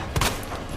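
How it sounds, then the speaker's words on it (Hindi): A single quick burst of gunfire from Leon's handgun in Resident Evil 2 Remake cracks out sharply, then decays into quieter ambient game sound. "गले में फ्लैशलाइट दबा के गोलियां मारता है"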